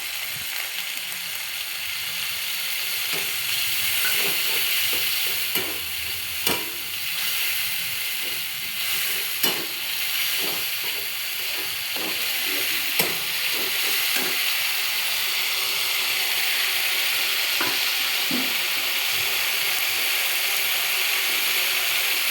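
A soaked spice paste is added to a pan of frying rohu fish and gives a steady, loud sizzling hiss over the whole stretch, with occasional small pops and clicks and no talking.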